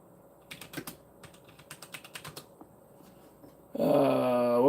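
Keys tap on a computer keyboard in quick, uneven bursts of clicks, close and fairly quiet, before a dog's growling whine suddenly cuts in loudly at the end.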